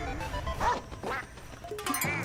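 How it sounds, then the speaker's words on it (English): A duck quacking in the Duck Hunt video game inside a game trailer: a few short nasal quacks within a busy, dense mix of game music and effects, fairly loud and close, lasting only a couple of seconds. "The fucking duck hunt dog."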